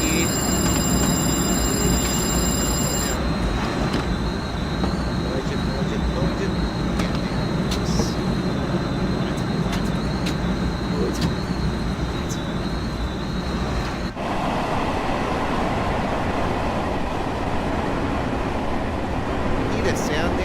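Simulated train running in Train Sim World 2, a continuous loud rumble and rolling hum of the locomotive with steady broadband noise and a shift in tone partway through, while someone talks over it.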